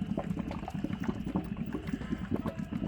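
Wort at a rolling boil in a homebrew kettle, a continuous bubbling churn with rapid irregular pops and gurgles, steady and close, with no voices.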